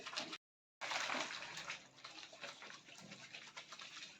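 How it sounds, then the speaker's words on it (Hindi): Cloth being scrubbed and washed by hand in water after treatment with oxygen bleach powder, a steady close splashing and sloshing broken by a brief dead gap near the start. "ये हम अच्छी तरीके से कपड़े को धो लेते हैं"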